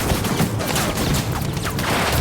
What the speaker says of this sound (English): Jo Hyun and the others saw this and opened fire